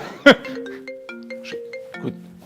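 A mobile phone ringtone plays a short electronic melody of clear stepped tones, opening with a sharp knock, fairly loud and close, in an office.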